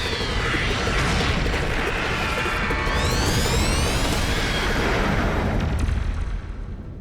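The Supreme Cannon attack in Digimon Story: Time Strangers unleashes loud, continuous booming blasts with rising energy whooshes and crackling debris. The roar fills the whole stretch before tapering at the end.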